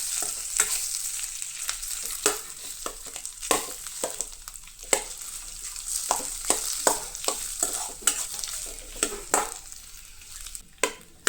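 Vada pav filling being mixed in a hot pan, with a frequent rhythmic scrape and clack of a spoon over a light sizzle, close and fairly loud.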